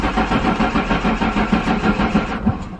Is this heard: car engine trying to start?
yes